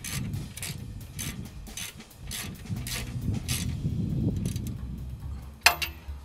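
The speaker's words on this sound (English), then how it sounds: "we want to get our ratchet with an 18 millimeter socket" A ratchet with an 18 mm socket clicks in a steady series of quick ticks while cinching down rear brake caliper bolts, close and fairly quiet, ending with a single sharper clack.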